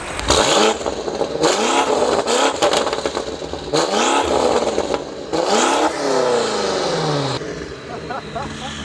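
An 800-horsepower BMW F90 M5 with its S63 twin-turbo V8 revs hard during a drive, loud repeated surges that climb and fall with turbo whoosh, heard close and continuous.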